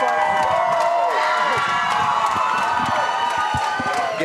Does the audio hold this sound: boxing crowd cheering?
yes